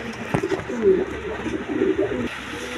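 Soft, repeated pigeon coos, a few low throaty phrases close by at a pigeon market over a faint background hum.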